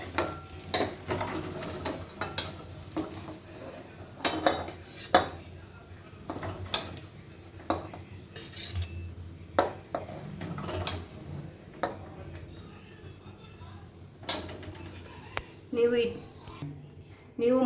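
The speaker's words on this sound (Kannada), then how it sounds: "ಈಗ ಎಗ್ ರೈಸ್ ರೆಡಿ ಇದೆ. ಪ್ಲೇಟ್ ಸರ್ವ್ ಮಾಡ್ಕೊಳ್ಳೋಣ." Plates and cutlery clink and scrape in sharp irregular taps while egg rice made with sona masuri rice is served onto a plate at home, under steady talk.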